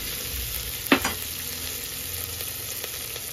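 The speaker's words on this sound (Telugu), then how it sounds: "ఈ విధంగా కొంచెం ఇది ఫ్రై కాగానే ఈ కూరగాయలన్నీ వేసి ఫ్రై" Vegetables, including carrot and potato with bay leaf, fry in a pot for veg biryani with a soft, steady sizzle and a single sharp utensil knock near the start.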